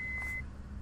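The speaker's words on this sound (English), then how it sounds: "There's our beep to tell us it's disabled." Autopilot disconnect tone in Microsoft Flight Simulator X during an approach into Aldergrove, a single steady electronic beep held for about half a second over a low continuous engine rumble.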